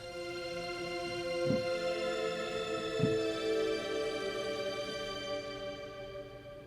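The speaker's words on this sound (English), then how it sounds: "I've also got that same patch, and it's got that shimmer effect" A sustained synth pad with dense harmonics and a shimmering, washy reverb tail, with soft chord changes swelling every couple of seconds.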